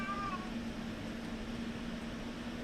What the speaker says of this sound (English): The cat's meowing at me over there.